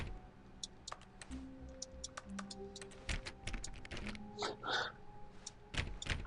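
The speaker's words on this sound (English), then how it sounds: "Why does pressing the A button make me do a typewriter thing? Sound like a typing." The typewriter sound effect in The Stanley Parable video game gives rapid, irregular key clacks in quick bursts, mixed with soft electronic tones and faint background noise.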